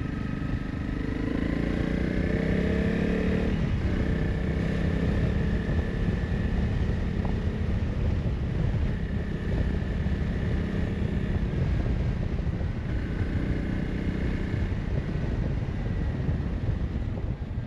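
Steady drone of a new motorcycle engine while riding in fifth gear at 60 km/h, with constant wind buffeting the microphone.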